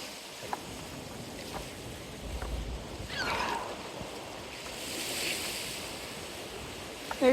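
Lake waves wash against wet shoreline rocks in Toronto, soft surging swells rising and falling twice amid steady wind noise, with no talking.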